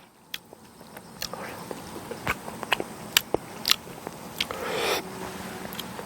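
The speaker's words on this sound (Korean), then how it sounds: "자, 새우 한번 먹어볼게요" Close-up eating of shrimp boiled outdoors in hot water and left slightly undercooked: crisp bites and wet crunchy chewing clicks repeat irregularly, with soft breathy mouth noises in between.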